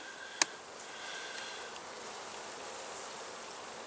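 Honey bees hum steadily from an opened hive during a February inspection, a soft, continuous buzzing with one brief sharp click near the start.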